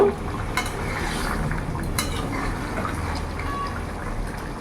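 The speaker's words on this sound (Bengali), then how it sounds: "এবার ভালো করে আমি একটু নাড়িয়ে নেব।" A spoon stirs fish curry in a pan with a continuous wet bubbling sizzle, broken by a few sharp clinks of metal against the pan and no voices.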